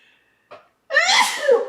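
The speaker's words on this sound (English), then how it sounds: "I'm going to sneeze." A single loud, close sneeze, preceded by a quick sharp intake of breath and a brief pause.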